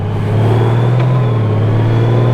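Honda Goldwing motorcycle under full throttle, a loud, close engine drone that climbs slightly in pitch, then steadies as the revs hold, continuous for the whole stretch with no talking.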